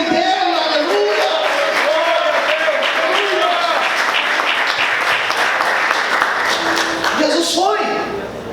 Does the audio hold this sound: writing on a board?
no